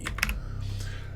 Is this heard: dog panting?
no